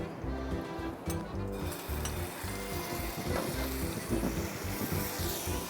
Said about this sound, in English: I will put the sambar paste on the pan